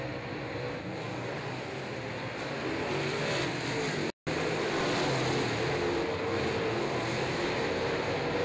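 Limited late model stock cars circling a speedway oval, heard as a continuous broad engine roar at some distance, steady and unvaried throughout, with a brief dropout midway and no talk.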